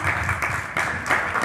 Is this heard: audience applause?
yes